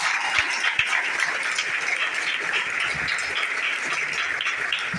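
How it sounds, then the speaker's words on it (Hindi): A seated audience at a gathering claps loudly and steadily to welcome first-time newcomers, a dense, continuous wall of applause that holds at full strength for the whole stretch without fading. "उनके लिए एक बार जोरदार ताली हो जाए।"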